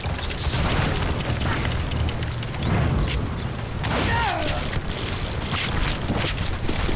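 Gunfire echoes through a rugged Old West gunfight in Call of Juarez Gunslinger, with scattered booming shots and thuds over a dense, noisy battle bed and a voice talking.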